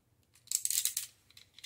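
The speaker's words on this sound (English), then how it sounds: "I just brought it here so you can see me cut it. I'm just going to use a regular knife," A regular knife slices through layered cardboard, one short scraping cut up close, quiet before and after, with a faint second scrape at the end.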